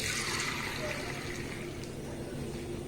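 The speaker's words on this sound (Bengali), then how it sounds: "3 থেকে 4 বার জল পাল্টে পাল্টে এই সাবুদানাটাকে খুব ভালোভাবে ধুয়ে নিতে হবে" Sago pearls (sabudana) swished and rinsed in a bowl of water, a steady close wet trickling and sloshing that carries on without a break, with no voice over it.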